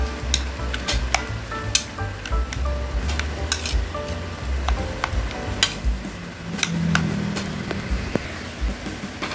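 Eggplant salad being stirred with fish sauce, spoon scraping and clinking against a bowl in irregular, close taps and scrapes over a faint steady background hum.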